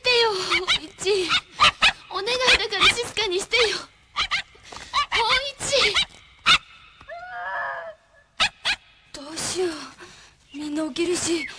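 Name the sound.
dog barking in film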